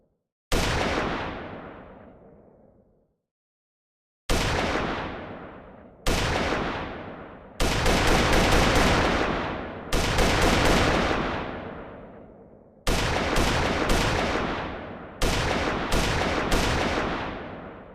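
Submachine gun fire in an Unreal Engine 5 third-person shooter template rings out in about eight separate loud bursts, each a rapid volley ending in a long echoing decay, with short silences between.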